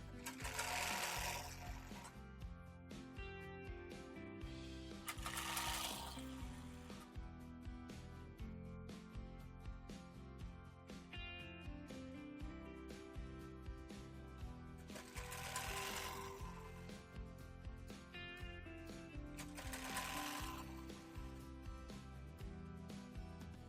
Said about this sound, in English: So while I'm sewing, I'll be dragging it.